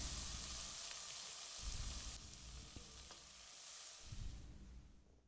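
Onions sizzling and frying in a pan, a steady loud crackle with occasional stirring scrapes and no voices.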